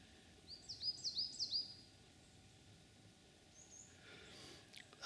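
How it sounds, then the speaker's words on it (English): A single bird in a misty, cold, windless forest gives a quick series of high chirps, clear but quiet above a still, hushed background, then falls silent. "There's nothing, is there, apart from the odd sound of a bird."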